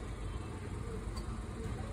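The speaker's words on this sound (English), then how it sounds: "You'll have to excuse the noise." Afternoon traffic on a busy street outside a small shed shop selling vintage clothes, heard as a faint, continuous low rumble of engines and passing cars with no distinct events.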